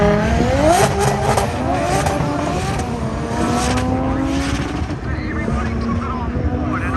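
Drift car engines, including a GT86, rev hard and whine as cars race past at a drift battle, with high revving sweeps and rough tire noise under a crowd's voices.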